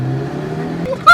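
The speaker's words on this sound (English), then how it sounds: "Listen to the backfire." An Audi S3 Stage 2+ with antilag drones with a low engine rumble, then a sharp loud exhaust pop or crackle bursts out at the very end.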